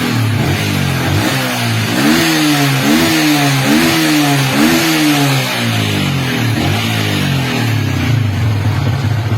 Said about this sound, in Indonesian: sekarang motornya udah normal, bisa di-blayar teman-teman ya